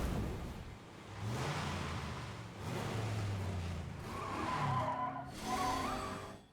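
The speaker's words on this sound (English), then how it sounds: "He's in his motorbike." A motorbike in Final Fantasy XIV Dawntrail, a steady engine drone with rising and falling pitch and tire-skid texture over several seconds, fairly close and continuous.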